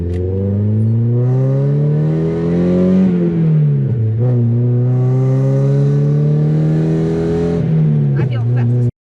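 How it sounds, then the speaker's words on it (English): A Mazda Miata's loud exhaust revs up and down close by, the engine note rising, dropping, and climbing again in a throaty roar. "And the exhaust already sounds a lot better."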